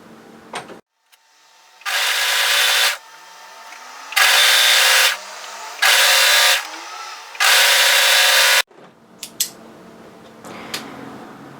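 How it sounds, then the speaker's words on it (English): An overlocker sews the hem of a wrap-front bodysuit in four loud, close bursts of fast buzzing stitching, separated by short pauses with quiet fabric handling and clicks. "I'm going to overlock and then do a row of plain stitching."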